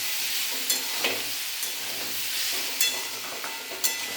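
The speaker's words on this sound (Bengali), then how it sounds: "এখন এগুলোকে নাড়াচাড়া করে কিছুক্ষণের জন্য ঢাকা দিয়ে রাখব।" Vegetables with salt and turmeric sizzle gently in a pan while being stirred, a soft steady frying hiss broken by a few sharp spatula scrapes and taps, close and fairly quiet.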